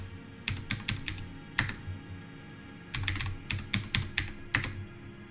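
A password is tapped out on a computer keyboard in quiet, irregular clusters of keystrokes with short pauses between them.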